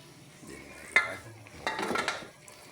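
A lid goes onto a pan of sautéed water spinach with mushrooms, giving one sharp metallic clack, followed a moment later by a burst of clattering and rattling from the pan, all fairly faint, with no talking.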